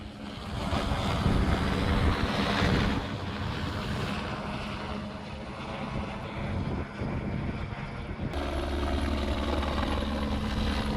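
A helicopter flying an aerial geological mineral survey near Chikkaballapura drones steadily overhead with a continuous rotor and engine hum, fairly loud and unbroken, shifting slightly in tone partway through, with no talk.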